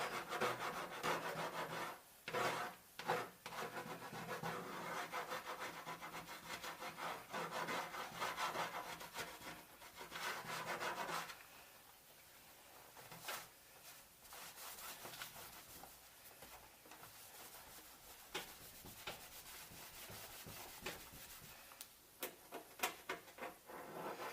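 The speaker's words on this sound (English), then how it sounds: "Fingernail is also really good for going around and just trying to get that glue off." Close, steady rubbing and scraping of old adhesive from the badge area on a Mazdaspeed Protege body panel, continuous and textured, softening partway through and then resuming in choppier strokes, with no talk.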